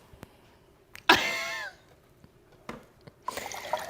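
A slushy machine's rinse cycle starts up with a sudden gurgling, whooshing burst of water, then goes quiet apart from scattered drips and clicks, followed by another rush of liquid near the end.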